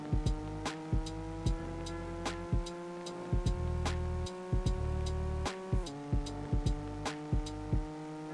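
A Golf car accelerates on the road in the Car Parking Multiplayer video game, its synthetic engine note climbing in repeated steps with regular clicks and gear-change dips over about eight seconds.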